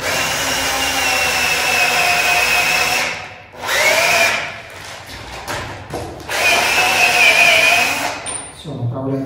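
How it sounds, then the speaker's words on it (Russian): A loud power drill whines in bursts, pausing briefly between runs before winding down at the end. "Сверлим."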